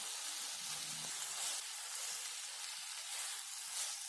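Bitter gourd fries in a pan with tamarind water, giving a steady, close sizzle and hiss that holds evenly throughout with faint stirring.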